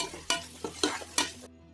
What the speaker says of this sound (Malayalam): സവാള നന്നായിട്ട് വഴറ്റിയെടുക്കാം